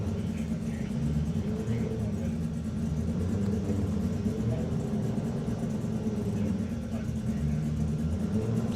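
A Honda and a VW Golf idle and rev at a street drag racing event, their engines producing a steady, loud rumble over crowd noise.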